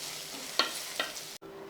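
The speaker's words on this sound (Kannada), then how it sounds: "ಈರುಳ್ಳಿ ಜೊತೆ ಸ್ವಲ್ಪ ಚೆನ್ನಾಗಿ ಫ್ರೈ ಮಾಡಿಬಿಟ್ರೆ" Onions sizzling in a pan for cowpea uppittu: a quiet, steady frying hiss broken by two soft stirring scrapes before an abrupt cut.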